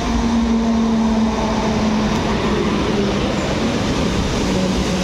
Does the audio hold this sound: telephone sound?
no